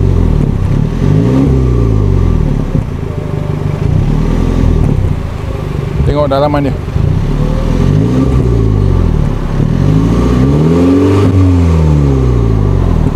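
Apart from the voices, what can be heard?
car engine revving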